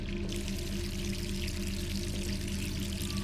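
Water pouring in Resident Evil 3 Remake, a steady rushing stream that holds at an even level throughout, mixed with a low droning game ambience.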